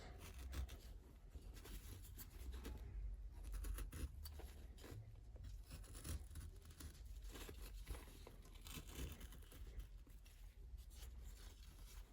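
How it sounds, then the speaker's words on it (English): A big chisel gouge carves cottonwood bark for a Santa figure, giving a faint, continuous run of scratchy scraping and rubbing strokes close by with no talking. "Follow that up with the big chisel gouge"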